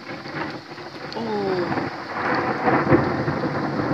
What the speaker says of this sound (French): c'est parti pour un orage, un bel orage.